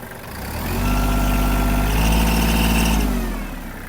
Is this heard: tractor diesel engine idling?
yes